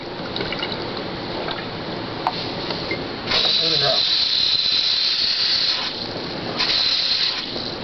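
Cold water runs from a tap in a steady hiss that swells louder partway through, continuous and close, with some talking in the background.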